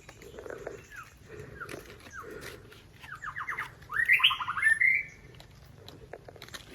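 Several birds call in an open forest setting: short squawky chirps, then a louder burst of rapid rising notes, over a faint low background hum.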